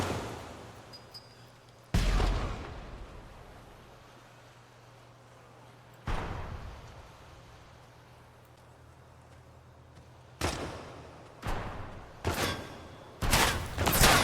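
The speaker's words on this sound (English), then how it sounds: "Someone's shooting at me" Video game gunfire in Project Silverfish, sharp single shots booming with long decaying echoes over a low background hum, then quicker clusters of cracks close together at the end.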